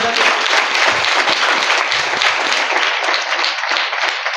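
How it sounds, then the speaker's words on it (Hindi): Loud, sustained applause from a large audience, dense clapping that stays steady for the whole stretch. "जोर से ताली बजाएं।"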